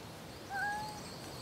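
A wildcat kitten in forest undergrowth gives a single short, thin mew, clear but not loud, against a quiet woodland background.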